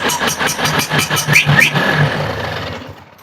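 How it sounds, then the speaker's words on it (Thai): A Vespa scooter engine started by remote, a quick run of rhythmic starter pulses catching into a brief mid-pitched running note that then fades away, close and loud with no talking. "สตาร์ทรถด้วยรีโมท"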